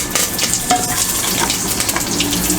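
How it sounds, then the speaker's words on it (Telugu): Garlic and curry leaves frying in hot oil for a palak dal, giving a loud, steady crackling sizzle with bright spattering pops throughout, close by and without any voices. "వెల్లుల్లిపాయలు కొద్దిగా వేగినాయి. కరివేపాకు వేసుకోవాలి."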